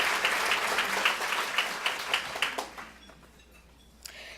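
Luncheon audience applauding from mid-distance, a dense wash of clapping with a few sharper claps that tapers off after about three seconds into scattered last claps and room quiet.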